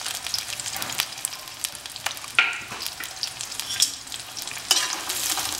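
Onions and green chillies fry and sizzle steadily in a pan, with a few sharp stirring scrapes and clicks breaking through the continuous hiss, close and alone without talk.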